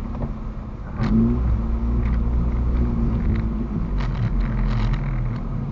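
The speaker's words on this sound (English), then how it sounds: "driving a sports car out in the snow" A sports car engine rumbles steadily while driving in snow, swelling louder after a second and holding a low, revving drone with faint crunches on top.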